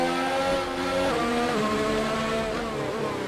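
Formula 1 race car engine in F1 2019 at the Austrian circuit, a steady high-pitched whine with rising and falling revs, heard alone and fairly loud throughout.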